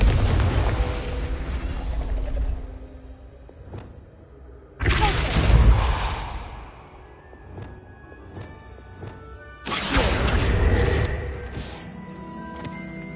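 Confringo fire spells cast in Hogwarts Legacy, three loud booming blasts spaced about five seconds apart, each a broad burst that rumbles and fades, with fainter pops and clatter in between.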